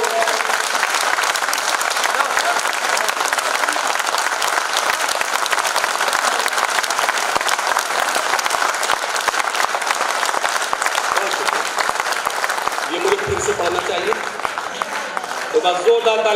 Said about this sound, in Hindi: जोरदार ताली मेरे इस कैंपस के लिए